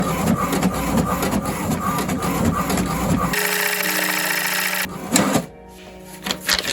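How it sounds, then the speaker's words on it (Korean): A new Samsung printer, working from the floor of a cramped room, runs a blueprint job: close mechanical whirring and rhythmic clattering, then a steady high-pitched feed tone, followed by a clunk and softer rattling as the page finishes. "새로 산 샘송 프린터 실력을 한번 감상하시죠"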